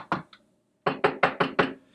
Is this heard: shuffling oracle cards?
no